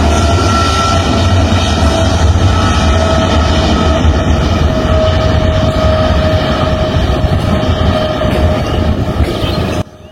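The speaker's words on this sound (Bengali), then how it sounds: "বিমানের টেক অফটি দেখুন, বড় বিমান কিন্তু বোয়িং 777 মডেলের বিমান" A Boeing 777 takes off at Dhaka airport, its engines a loud, close, steady roar that holds at full strength for ten seconds before cutting off abruptly at the very end.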